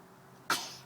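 A baby boy in a flowerbed lets out a single short, sharp sneeze, close and sudden, then the sound trails off quickly.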